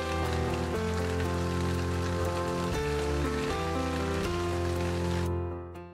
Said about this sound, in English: By adding light rain, it makes it more realistic since hail usually comes with rain